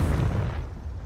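A fiery Confringo spell blast from the Hogwarts Legacy video game, a single loud, rumbling explosion that starts at full force and slowly decays over about a second, with no voices.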